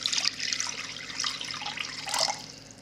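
Tap water running steadily into a container while measuring water for sourdough dough, a soft continuous splash that shifts slightly in pitch, heard alone at low level.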